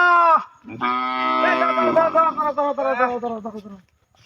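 A cow lets out a loud, close moo, a short call followed by a long drawn-out bellow that wavers and fades.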